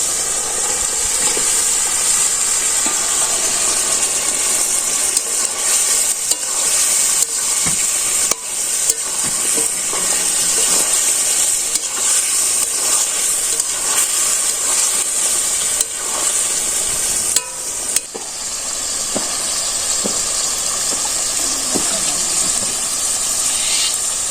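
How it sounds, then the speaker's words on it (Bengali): Meat and potatoes fry in a pan over a village fire, giving a loud, continuous hiss and sizzle with occasional crackling bursts, no talk. "নিজে মাংস ভাজা আর আলু ভাজা দিয়ে দিই"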